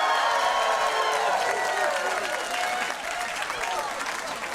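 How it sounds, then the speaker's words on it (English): Audience at a Jeff Allen comedy show bursts into loud, sustained applause with cheering and a few voices calling out, the dense clapping holding steady before easing slightly toward the end. "applaud."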